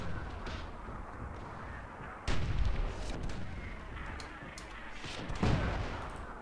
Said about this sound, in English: This actually might be a situation where we need to use the mortar dwarves.